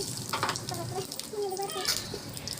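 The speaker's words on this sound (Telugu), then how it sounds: "తాలింపు బాగా వేగిందండి" Tempering spices and green chili pieces sizzle and crackle in hot oil for sambar, a steady frying hiss close by, with faint voices of children in the background.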